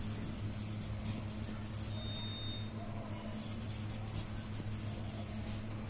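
Pen writing on paper during an English lesson, a soft continuous scratching close by over a steady low electrical hum.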